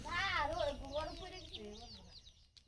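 Backyard chickens clucking in a rural village yard in early morning, a few close, falling clucks and squawks, faint and intermittent, with voices present.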